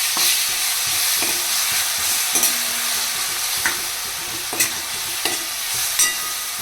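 Tomatoes and golden fried onions with biryani masala sizzle loudly in a pan as they are stirred, a constant hiss punctuated by several spaced scrapes and clinks of the spoon, with no one talking.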